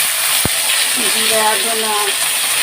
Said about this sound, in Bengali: এখন মশলাগুলো ভেজে নেব। এটার মধ্যে যাবে বাটা মশলাগুলো।